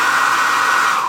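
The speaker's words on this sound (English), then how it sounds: "I sure would like to use a hair dryer right now if I can." A hair dryer blows with a steady, close, loud whooshing hum for about a second, with no voices.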